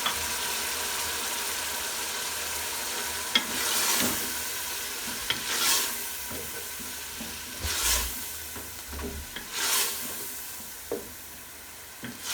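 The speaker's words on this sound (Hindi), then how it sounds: "अब हम इसे अच्छे तरीके से फ्राई करेंगे, गलाने के लिए छोड़ देंगे टमाटरों को।" Tomatoes fry in a pan with a steady close sizzle, broken every couple of seconds by the scrape and rustle of stirring.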